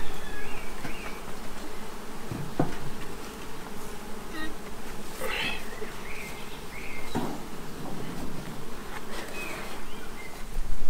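Honeybees from a drone-laying colony that is being broken up buzz densely and continuously at close range, a layered hum with individual bees droning past the microphone and no voices.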